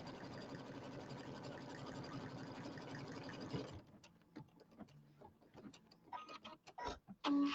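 An embroidery machine stitching out small bucket handles for a Christmas tree bench buddy project, a steady mechanical whirring and ticking that runs for about four seconds, then gives way to scattered clicks and taps.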